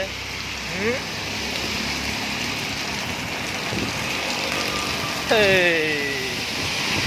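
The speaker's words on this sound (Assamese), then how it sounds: "বৰষুণৰ বতৰ ন, কিমান মজা লাগিছে।" Steady rain falling and pattering on surfaces, with a couple of brief vocal sounds rising over it.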